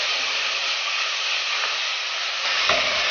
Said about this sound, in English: Fry for a minute or two